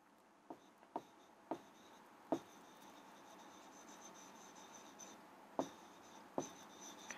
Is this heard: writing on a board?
yes